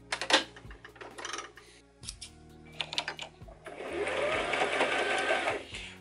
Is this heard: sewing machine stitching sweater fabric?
yes